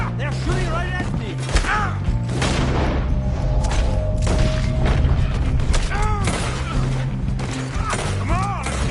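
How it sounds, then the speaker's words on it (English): Gunfire rattles in Red Dead Redemption 2 amid a chaotic shootout, repeated booming shots and thuds layered over game music and voices, continuous and busy throughout. "They're shooting right at me!"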